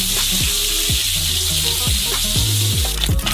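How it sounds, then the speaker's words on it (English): Ground beef sizzles loudly in a hot oiled pan, with a constant crackling hiss and the scrape of a spatula moving it around. "Put the frying pan on the stove, add some oil, and fry up some ground beef."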